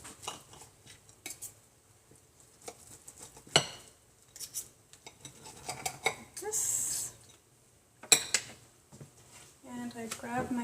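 A knife cuts Gardein vegan fish fillets into long pieces on a kitchen surface, giving scattered clicks and taps of a blade and utensils while a person talks.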